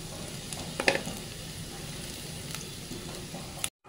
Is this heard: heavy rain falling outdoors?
no